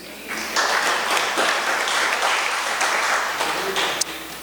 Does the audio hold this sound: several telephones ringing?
no